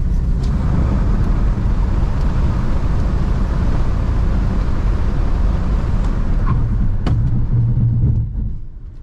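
A Kia Seltos HTK Plus diesel SUV brakes hard on an empty road, with a loud steady rumble of the car in motion that fades toward the end as it comes to a stop.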